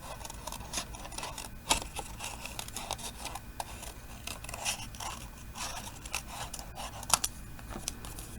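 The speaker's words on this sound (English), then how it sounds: "Down here I'm going to do a little bit more detail cutting." Scissors snip detail cuts into stamped cardstock for a handmade card, giving crisp, close, quiet clips at an irregular pace with faint paper rustle between them and no talking.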